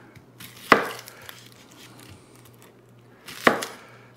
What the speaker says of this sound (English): And we're going to cut this up into quite big pieces.